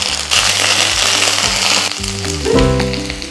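Peanuts, dried red chillies and curry leaves fry steadily in hot oil for tamarind rice, a loud continuous close sizzle with low background tones and no speech.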